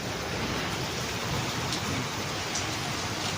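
Steady rain pours down evenly throughout, a dense, continuous hiss of drops hitting surfaces, with no voices.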